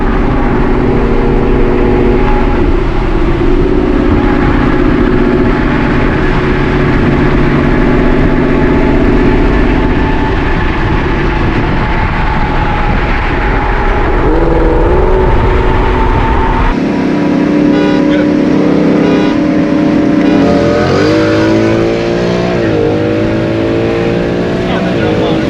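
Loud gen 3 Ford Mustang engine droning at sustained revs, then a shift that brings rising and falling whines as the car downshifts and pulls. Voices talk over it.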